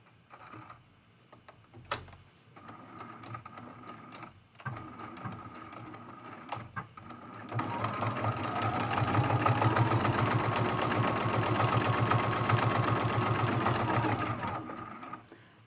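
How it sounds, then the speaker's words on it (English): Sewing machine quilting between pieces of the Lamp Post art quilt, a few taps and clicks at first, then a long, steady, close motor run with rapid stitching; a voice talks early on. "Let's go ahead and start sewing in between these pieces."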